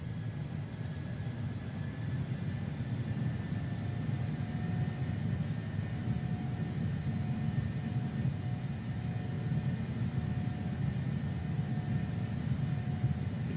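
Boeing 737-800 jet engines spooling up to takeoff thrust in MSFS 2020, heard as a steady, dense low roar with a faint high whine held throughout, no voices.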